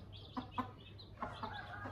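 A mother hen clucks softly among her newly hatched chicks, a few short scattered clucks and faint chirps over a low steady background hum.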